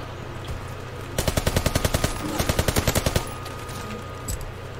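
Repeated blasts from a shotgun in Call of Duty: WWII, a quick burst of about a dozen close shots followed by a second rapid volley, then quieter background.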